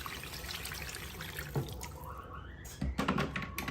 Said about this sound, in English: I'm just gonna add water and cook it.